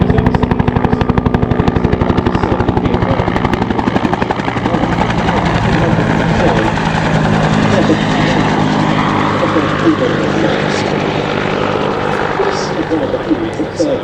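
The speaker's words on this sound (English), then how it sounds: "distinguished himself as the aircraft commander of a UH-1F transport helicopter" A Bell UH-1 Huey helicopter flies close and loud during an air show display at Duxford, its rotor thumping in rapid steady beats under a dense engine roar that continues throughout.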